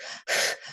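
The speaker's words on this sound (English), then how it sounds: "some people are very intense, loud breathers" A person demonstrates intense, loud breathing: a forceful airy breath, a short catch, then a longer loud rushing breath followed by a softer one, close up and with no talking.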